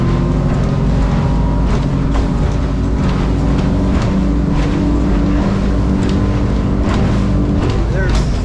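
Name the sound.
North River 25 motorboat gliding through water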